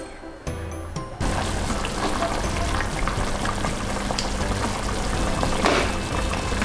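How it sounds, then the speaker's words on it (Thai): Tomatoes go into a pot of simmering chicken and potato soup, a soft start giving way to a steady, close bubbling hiss that continues evenly to the end. "ต่อไปก็ใส่มะเขือเทศลงไปนะคะ"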